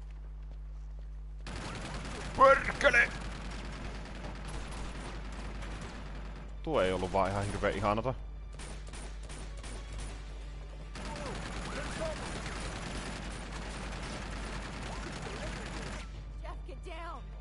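Gunfire rattles through the video game Uncharted 2, with bursts of rapid mechanical shots and clattering weapon noises spread over the scene and a voice speaking between them.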